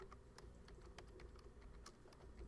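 Rapid typing on a computer keyboard while building a recipe website: a continuous patter of quiet, close key clicks at an uneven rhythm over steady background hiss.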